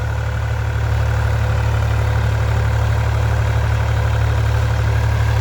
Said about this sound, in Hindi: अब जो है हम दिखाते हैं ट्रैक्टर कितने अच्छे से चल रहा है।